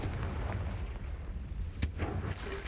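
A Confringo fire spell blasts in Hogwarts Legacy, a rumbling explosive burst with a sharp crack partway through, heavy low-end boom over a continuous roar.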